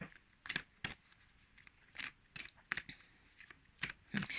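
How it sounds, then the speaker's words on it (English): Crisp papery riffles and flicks of thick, glossy oracle cards being shuffled, in several quick bursts with short pauses between, fairly quiet and close. "It just glides when you shuffle it"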